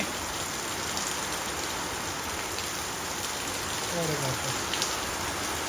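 Heavy monsoon rain keeps up a constant close roar of falling water, with a faint voice briefly surfacing beneath it toward the end.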